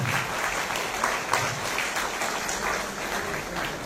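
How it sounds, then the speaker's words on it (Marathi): Steady applause from an audience at a Mumbai Police property-handover ceremony after a lamp-lighting, dense and continuous at moderate level, with no voices over it. "सर्वांनी टाळ्या वाजवून"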